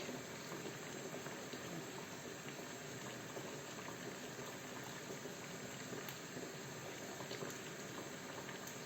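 Ukrainian spring borscht with kvass and chunks of sausage simmers in a pot, giving a steady, close, continuous bubbling boil that holds evenly throughout with no voices.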